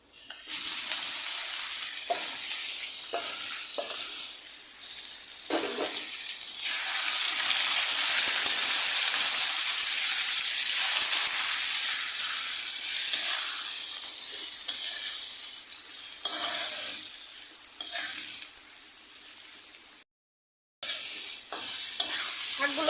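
Steady loud sizzling of amaranth greens frying with browned onions in a hot pan, with occasional stirring scrapes, continuous throughout with a brief dropout near the end.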